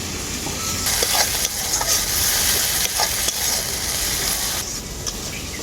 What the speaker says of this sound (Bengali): মশলাটাকে আমি খুব ভালো করে কষিয়ে নিয়েছি